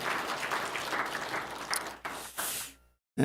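A church congregation claps together at a Sunday morning service, a dense burst of applause that fades out and stops abruptly.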